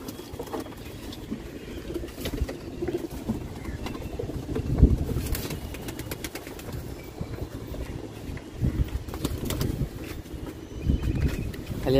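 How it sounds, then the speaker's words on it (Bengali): Madras pigeons in a loft cooing softly in low, repeated throaty calls, with light background noise and occasional murmured voices. "সবই দামি দামি পায়রা।"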